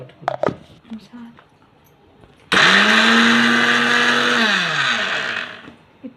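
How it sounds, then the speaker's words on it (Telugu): A kitchen mixer grinder starts abruptly and runs loud and close with a steady whining roar, its pitch slowly falling as it winds down; brief speech and clatter come just before it starts. "మిక్సీ"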